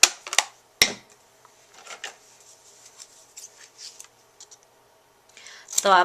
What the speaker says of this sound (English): we're just going to trim those out with the scissors